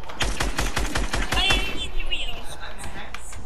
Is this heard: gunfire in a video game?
yes